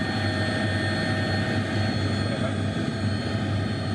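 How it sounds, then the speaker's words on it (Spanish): An institutional helicopter flies to the scene of a traffic accident, giving a constant dense engine and rotor drone, steady and fairly loud throughout, with a voice speaking over it. "quienes se movilizaron al lugar de los hechos en el helicóptero de la institución"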